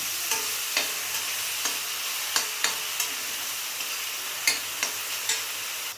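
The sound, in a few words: frying spices with tomato paste in oil, stirring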